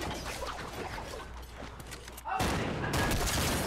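Bursts of Fortnite gunfire during a solo fight with a player on a zipline, dense and continuous, growing louder and harsher in the last second and a half.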